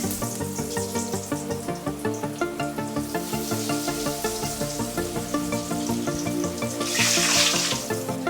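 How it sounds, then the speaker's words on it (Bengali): Nut fritters fry in Saffola oil in a pan, giving a continuous close bubbling sizzle with a regular pulsing rhythm that swells briefly near the end. "আমি সাফোলা দিয়ে ভাজছি।"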